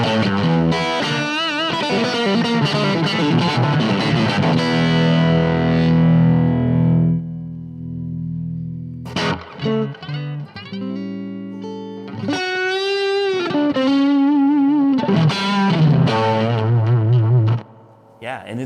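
Heavily overdriven Stratocaster-style electric guitar through a cranked 1964 Fender Super Reverb rings out loud and saturated, sustained chords giving way to choppy riffs and bends with a thick, fuzzy tone.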